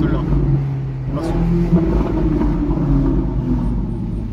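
A Ferrari 458 V8 with a Capristo exhaust revs and rumbles nearby while people chat over it, the engine note swelling and fading in the background.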